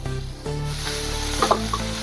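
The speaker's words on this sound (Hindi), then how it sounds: "अभी इसमें हम टमाटर डालेंगे।" Tomato added to softened onions in a pan for dhaba-style aloo do pyaza gives a continuous sizzle, with a few stirring scrapes and clinks near the end and no voices.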